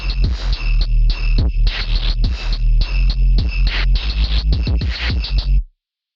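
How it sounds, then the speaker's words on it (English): Memphis phonk drum pattern with every drum part playing together: a loud, dense loop of punchy kicks, snappy hits and a steady high cowbell-like ringing over a deep booming low end, running without pause before stopping abruptly. "And the drums all together sound like this."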